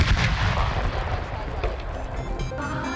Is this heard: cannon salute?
yes